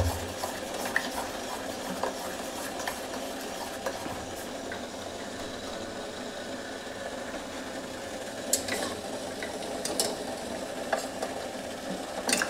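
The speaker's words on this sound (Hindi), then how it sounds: "ऐसे हिलाना है थोड़ा सा चम्मच से, ताकि वो सब मुल्तानी मिट्टी के जो उसके अंदर चला जाए" A spoon stirs melted soap base mixed with multani mitti, giving soft, continuous scraping and swishing with occasional light clinks against the container, fairly close and moderately quiet.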